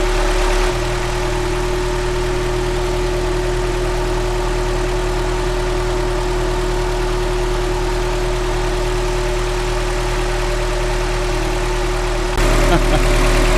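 A Toyota truck engine, 22RE or 3VZ, with a rough cold start runs loud and close, a steady droning idle that holds nearly unchanged before a brief shift near the end.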